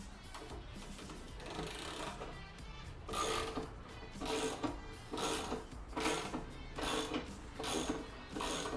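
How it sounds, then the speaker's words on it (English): Under a Suzuki Bandit cafe racer motorcycle, a jack is wound down with repeated ratcheting mechanical clicks and grinding in rhythmic bursts, fairly close but moderate in level. "So if you now wind the jack off, so it's sitting under its own weight and we can pull the jack out."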